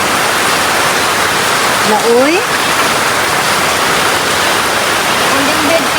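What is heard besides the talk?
heavy rain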